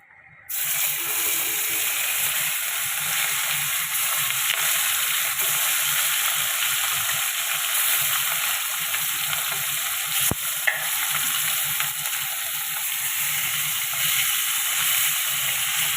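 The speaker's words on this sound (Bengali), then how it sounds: "ইলিশ মাছটা আমি বেশি ভাজবো না, অল্প ভেজে নেবো" Hilsa fish pieces frying in a pan, a steady dense sizzle of hot oil with occasional stirring scrapes, close and continuous throughout without any voices.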